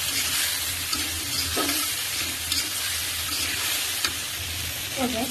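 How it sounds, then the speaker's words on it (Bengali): Potatoes, shrimp and spices stir-fry in a pan for a shrimp and Malabar spinach dish, with a steady close sizzle and occasional scraping stirs and clinks from a utensil. "এখন আলু, চিংড়ি মাছ আর মশলাটা খুব ভালোভাবে কষিয়ে নেব।"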